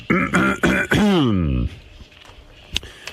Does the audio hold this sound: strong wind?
no